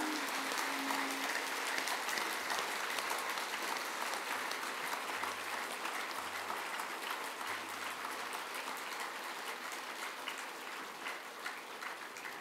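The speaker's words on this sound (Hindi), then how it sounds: "सभी एक दूसरे के उत्साहवर्धन में तालियों की गड़गड़ाहट कर रहे हैं।" An audience at a spiritual satsang gathering claps together in a long, dense, continuous round of applause that holds steady and eases only slightly over about twelve seconds.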